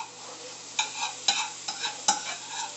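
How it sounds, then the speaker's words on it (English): Vegetables for Thanksgiving dressing sautéing in a pan, stirred with a wooden spoon; a soft steady sizzle with four or five distinct scraping stirs at a regular pace, close by and without talk. "So my vegetables are sauteed, I'm going to turn them off."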